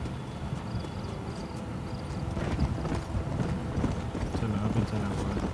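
Horse hooves clip-clopping at a steady run in the video game Red Dead Redemption, continuous and fairly loud with ambient game noise, occasional whinny-like tones and a voice talking over it.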